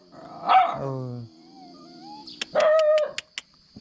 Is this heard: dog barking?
yes